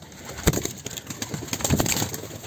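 Homing pigeons give soft, brief coos close by, with faint rustling and a light flutter around them.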